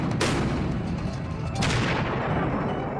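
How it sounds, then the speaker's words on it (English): A 105 mm cannon on the Mobile Gun System armored vehicle fires in two loud, booming blasts about a second and a half apart, with a sharp crack at each shot over a heavy, rumbling background. "When the mobile gun system wants to make a big impression, it uses the 105 cannon"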